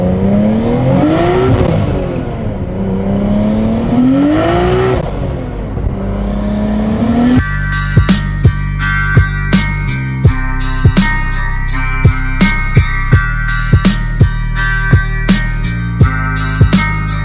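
A Nissan Skyline GT-R R33 revs and accelerates hard, its engine note climbing and falling in a few sweeps. After that come a rapid run of sharp, close mechanical pops and bangs at a steady beat.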